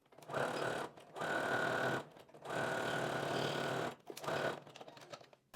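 A sewing machine stitches jersey fabric in four separate bursts of fast mechanical whirring, each lasting about a second, with short quiet pauses between runs.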